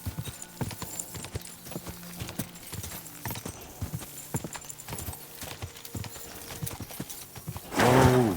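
A horse gallops in Kingdom Come: Deliverance II, rapid rhythmic hoofbeats pounding close for several seconds, then a loud whinny near the end.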